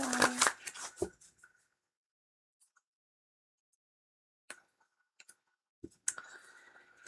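Two bursts of tarot card shuffling, one at the start and one near the end, with scattered light clicks and long quiet gaps between them.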